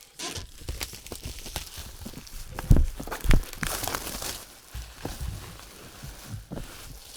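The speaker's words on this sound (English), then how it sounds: "Use the knife here to get this packing material, or the cellophane, off" Cellophane wrap on a board game box crinkles and tears as a knife cuts and peels it away, close-up, with sharp crackling bursts and scraping.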